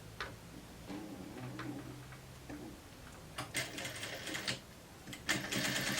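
A domestic sewing machine stitches fabric along a chalk-marked line in short ticking bursts, starting and stopping with quiet pauses between runs, close and fairly faint.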